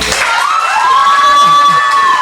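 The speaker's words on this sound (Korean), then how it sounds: "제가 하나 둘 셋 하면 소리를 지르면서 박수를 쳐 주셔야 목사님이 나오실 겁니다." Church festival audience shouting and cheering together on a count of three, a loud, sustained crowd roar with a long rising whoop over the top and clapping mixed in.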